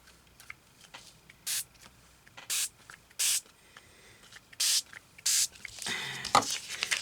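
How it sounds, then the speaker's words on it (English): Five short, evenly spaced bursts from a spray bottle of ink misted onto journal paper, close and crisp, followed by rustling and handling noises at the end. "So I'm going to put some squirt on it."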